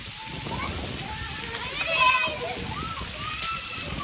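Steady rain falls in a Punjab village in Pakistan, a continuous hiss with water splashing, while children play and talk nearby throughout.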